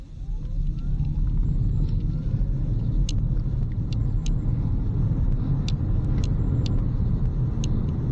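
An electric car accelerates hard from a standstill to 80 km/h on a country road. Steady, loud road rumble and wind noise sit under a faint rising motor whine, with no talking.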